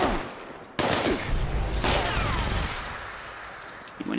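Rapid bursts of fire from a Gatling plasma gun in the video game Fallout 76. Two loud, sustained volleys, one after another, fill the clip and trail into a fading ring at the end.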